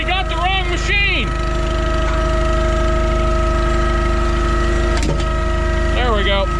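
A 2015 Chevy Silverado 2500 4x4 with engine damage idles as it warms up, a loud, steady droning hum throughout, with people talking briefly over it at the start and end.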